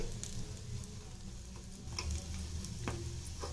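Banana bajji shallow frying in a little oil in a pan, with a steady low sizzle and bubbling throughout and a few light ticks of a utensil stirring or turning the fritters.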